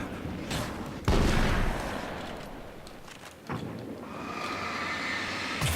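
Sawed-off shotgun blasts in the video game Alan Wake's American Nightmare, with two loud, sharp shots a few seconds apart standing out over a busy game soundscape.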